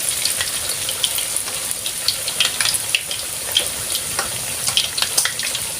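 Hot oil spattering and sizzling as chicken fries, a steady crackle with scattered sharp pops close by, no voices.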